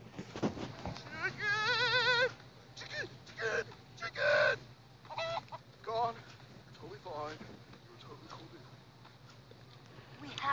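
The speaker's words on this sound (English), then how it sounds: "A lot of chickens running around might be a distraction." Several clucking and squawking chicken calls in quick bursts in Minecraft: Story Mode, some wavering, mixed with other game sounds and occasional talking.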